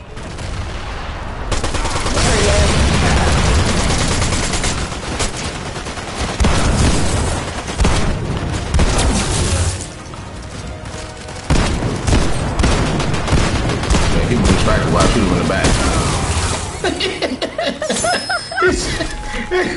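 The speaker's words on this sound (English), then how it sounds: "Ran out of AR ammo. Just gonna do with the pistols." Pistol fire in a video game shooter comes in rapid bursts and dense volleys of loud, sharp shots, with brief pauses between clusters and quieter gaps near the end.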